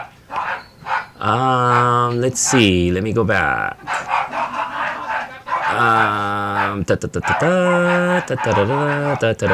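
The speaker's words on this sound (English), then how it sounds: "don't mind them barking" Dogs bark and yelp in excited, howling bursts close by, with a person briefly speaking between them.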